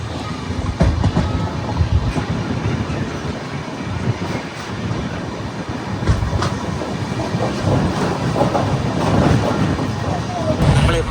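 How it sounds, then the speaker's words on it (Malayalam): The Himsagar Express passenger train rolls slowly at about 15 km/h along the tracks near Trivandrum, with a steady rumble and faint rhythmic clacking, continuous and close throughout. "നമ്മുടെ വണ്ടി 15 kmph സ്പീഡിൽ ഇങ്ങനെ പയ്യെ ഒട്ടിക്കൊണ്ടിരിക്കുകയാണ്"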